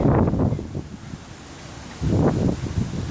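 Wind blows outdoors in gusty buffets against the microphone, strong at first, easing to a quieter lull, then surging again.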